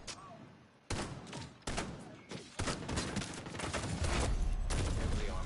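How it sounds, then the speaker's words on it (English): Explosions from The Division 2, played on PS5, come as a series of loud, sudden booming bursts that follow one another within a few seconds, each leaving a dense roar that keeps building. "it was a double explosion"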